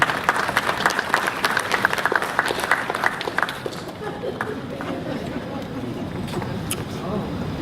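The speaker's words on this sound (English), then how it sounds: "She got the applause." Guests at an outdoor wedding ceremony in Balboa Park applaud: brisk, close clapping for about three and a half seconds, then it fades into a softer crowd murmur with some chatter.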